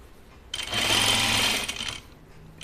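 A sewing machine runs a quick burst of stitching on a scout tee, a loud, fast mechanical whir lasting about a second and a half, then stops amid quiet room tone.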